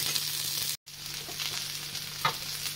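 Paneer with onion and capsicum fries in gravy with a continuous close sizzle. Stirring scrapes and clinks against the pan, one short dropout breaks it, and a louder clatter comes near the end.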